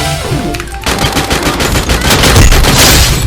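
Rapid automatic gunfire from a powerful gun in a video game, loud sustained bursts that begin abruptly and continue densely to the end, with no talk over it.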